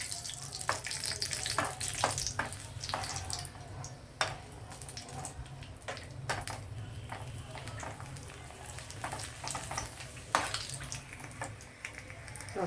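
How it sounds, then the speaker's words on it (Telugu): Papad frying in hot oil in a home kitchen, a steady sizzle with sharp crackling bursts and occasional clattering, running continuously throughout with no talk. "ఇదిగోండి నేను అప్పుడా లేపుకుంటాను. ఆయిల్ హీట్ అయిందో లేదో చూస్తున్నాను."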